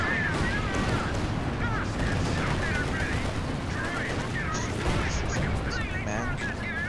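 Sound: artillery fire in video game Company of Heroes 2

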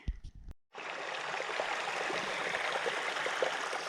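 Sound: mountain stream water flowing

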